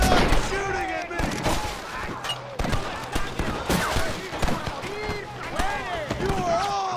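Gunfire in the western game Red Dead Redemption, a dense shootout of repeated rifle and pistol cracks with ricochet whines, loud and continuous, with shouting voices heard amid the shots.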